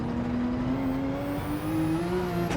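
Porsche RSR race car in a racing video game, its high-revving engine droning steadily with a rising turbo whine that climbs gradually in pitch, loud and continuous with no voices.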